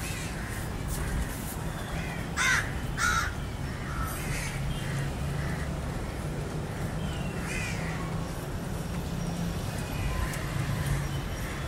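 A crow near food caws in an outdoor setting, a few harsh calls in quick succession early on followed by fainter caws, over steady background noise and rumble.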